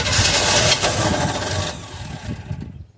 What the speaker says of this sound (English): When you hear it pop, you don't have to crank it long.